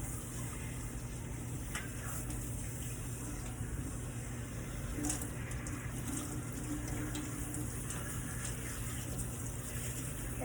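Steady flow of water rinsing shampoo from hair while the scalp is gently massaged, a continuous close hiss of running water with no voices.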